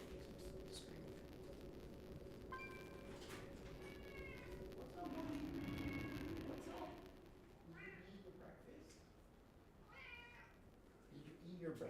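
A pet cat gives several short meows up close, mixed with a person's nearby talk over a low steady hum.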